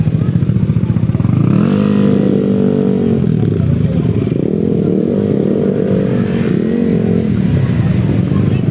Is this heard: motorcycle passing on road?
yes